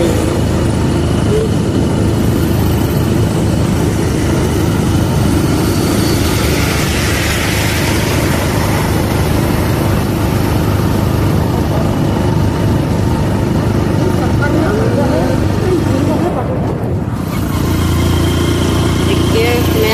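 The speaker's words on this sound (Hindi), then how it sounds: "इतना ऊंचाई है कि गाड़ी चढ़ नहीं पा रही है," A motorbike engine labours slowly up a steep hill in a rural area, carrying a rider, its low steady drone continuous and close throughout, with someone talking over it.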